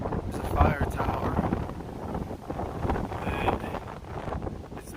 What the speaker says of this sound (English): If you can hear the wind, you can tell that it is very windy